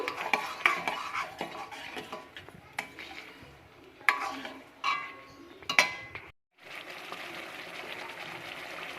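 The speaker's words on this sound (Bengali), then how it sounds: "চিনিটা দিয়েও ভালো করে নাড়াচাড়া নাড়াচাড়া করব" A mango jelly mixture with sugar is stirred in a pot, producing intermittent scraping and clinks of a spoon against metal, with short pauses and one brief silent gap.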